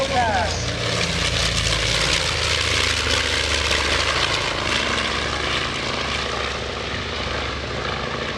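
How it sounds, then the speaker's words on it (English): A North American B-25 Mitchell twin-engine bomber makes a photo pass at an airshow, its steady, loud propeller and engine roar sustained throughout with faint voices underneath. "Here's the B-25 on a photo pass."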